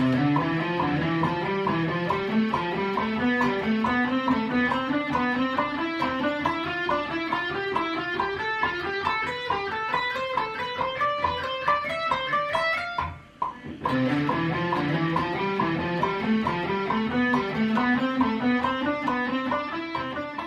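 A distorted electric guitar plays fast, continuous three-note-per-string runs in repeating scale patterns, pausing briefly midway before resuming at the same pace.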